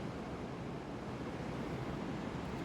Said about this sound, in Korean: 바다 소리 좋아요.